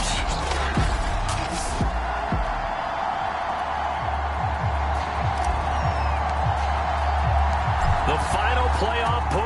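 A sold-out stadium crowd cheering in the Madden 22 video game before a Patriots versus Steelers matchup, a dense continuous roar under a close commentator's voice.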